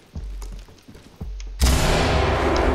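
A flashbang detonates in the tactical shooter Ready or Not, a sudden loud blast that floods the scene after a few muffled thumps and footsteps, followed by sustained roaring ringing noise.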